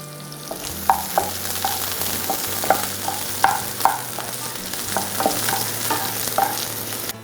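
Shallots frying in hot coconut oil with popping mustard seeds, a steady sizzle broken by sharp, irregular crackles and occasional stirring clinks, loud and close with no talking.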